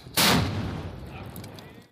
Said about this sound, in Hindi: मैंने 5 साल 7 साल की उम्र से इस तोप को दागने का काम चालू किया